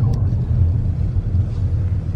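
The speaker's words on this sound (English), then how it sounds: "There's a car." A car on a road near a cemetery, heard as a steady low engine rumble and tyre roar that stays close and continuous throughout, with no voices.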